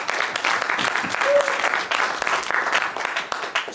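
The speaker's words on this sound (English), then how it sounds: "Big round of applause for that." A crypto convention audience breaks into a big round of applause, a steady, moderately loud crowd clapping that fills the room without speech.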